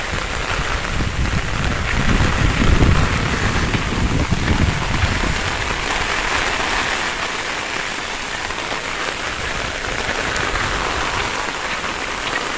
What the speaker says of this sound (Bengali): প্রচণ্ড রকমের বাতাস আর বৃষ্টি হচ্ছে।